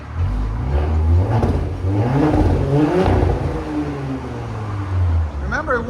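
A straight-piped 2023 Porsche Cayenne S with a 2.9L twin-turbo V6 revs up loudly and close, rising and falling in repeated pulls held near a limiter, with people talking briefly at the end.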